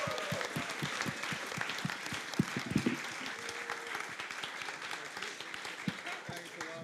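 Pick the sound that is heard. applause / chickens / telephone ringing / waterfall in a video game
applause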